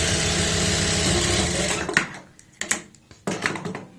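A sewing machine stitches pleats into a pair of trousers, running steadily at close range for about two seconds before stopping, then giving a few short bursts of stitching with pauses between them.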